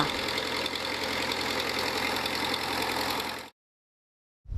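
Engine-driven water pump drawing water at a rural irrigation canal in Thailand, its loud steady mechanical drone and knock running continuously up close before cutting off abruptly.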